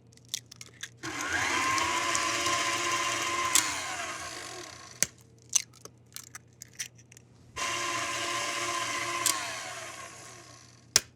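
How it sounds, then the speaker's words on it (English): Electric mixer beating eggs into fruit cake batter, whirring in two long bursts with a pause between them filled with clicks and taps of the bowl. "You'll notice that I stopped the mixer before I add the next egg."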